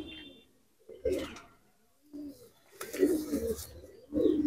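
Malwai pigeons, newly arrived birds, give several separate bouts of low, rumbling coos at close range, broken by near-silent gaps, with faint rustling between calls.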